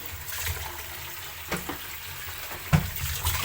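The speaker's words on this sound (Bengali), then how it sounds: "এখন এখানে মাছটা ধুয়ে নিব।" Fish rinsed in a kitchen under running tap water, a continuous splashing hiss broken by a few louder sloshes and clunks of handling, near and with no talking.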